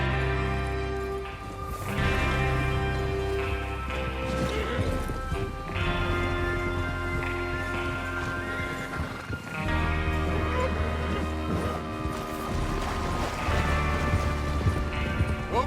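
Horses in the Red Dead Redemption 2 video game clatter along with steady hoofbeats under a busy game soundscape, with rustling and intermittent louder clatters throughout the long stretch.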